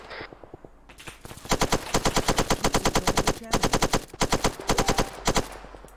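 Machine gun fire in the video game Arma 3: rapid, loud bursts of automatic shots in close succession, with short pauses between strings of rounds.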